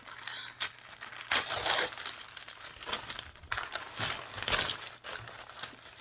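Wrapping paper crinkles and rustles close up as someone unwraps a Splendies subscription package, in irregular bursts of crackling handling noise over several seconds. There is no talking.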